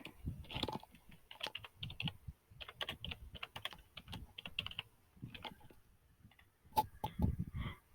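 A name being typed on a computer keyboard: quick bursts of close, crisp key clicks with short pauses between, in an otherwise quiet room.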